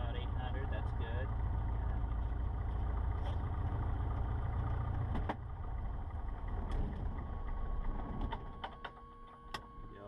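A Cessna 150 engine idles at about 800 RPM in a steady, loud, close drone with a low rumbling pulse, and voices talk over it throughout.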